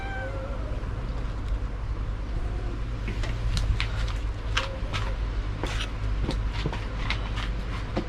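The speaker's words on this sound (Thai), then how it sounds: "น้องแมวกันยังมากวนอยู่" Cat meowing repeatedly over steady low background rumble, a series of short meows that grow more frequent in the second half, fairly close and fairly loud.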